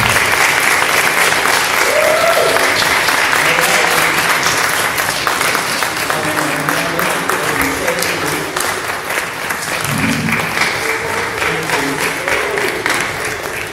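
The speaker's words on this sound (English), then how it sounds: "a round of applause for Pastor Branch and Mr. Bland." Sustained applause from an audience, steady and fairly loud throughout, with a faint murmur of voices beneath the clapping.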